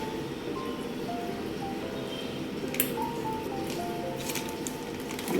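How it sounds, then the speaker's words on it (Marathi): Gravy for kofta curry bubbles at a boil in a pan, a soft continuous simmer of wet pops and squishy plops, close and moderately quiet. "ग्रेव्हीला चांगली उकळी आली आहे."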